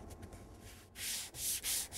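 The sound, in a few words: hand sanding wood with a flat block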